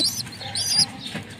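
Pigeons from a prized racing bloodline, including a growing youngster, coo and chirp softly nearby in short, overlapping calls with light fluttering, no voices.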